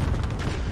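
A land mine detonates in the PUBG battle-royale shooter, a short, dense burst of rumbling blast noise that fills the whole moment without any clear start or tail.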